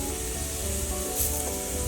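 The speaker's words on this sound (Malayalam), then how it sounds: "ഇതിന് കഴിഞ്ഞിട്ട് നമ്മൾ അരിഞ്ഞു വെച്ച ഉള്ളിയില്ലേ, അതിട്ട് കൊടുക്കാം കേട്ടോ." Chopped onions fry in a pan for a Kerala-style beef curry, giving a steady, close, continuous sizzle with a faint stir partway through and no talking.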